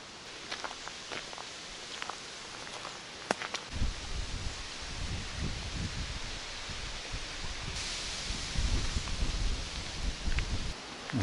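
Steady outdoor wind noise by a lake with rustling and low rumbling gusts, constant throughout with occasional stronger bursts, no voices.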